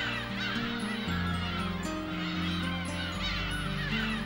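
A dense crowd of seagulls calls over a nesting island at peak season, a constant overlapping chorus of harsh, honking cries with no pause.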